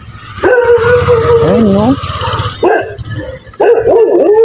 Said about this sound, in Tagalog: Papansin ang aso. Daming mga aso dito, guys, oh.